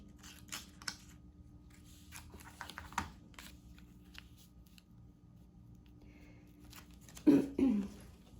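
Scissors trim a small piece of paper for a tiny paper-bag junk journal, giving a few soft, sparse snips and crinkles close by, followed by a louder rustle near the end.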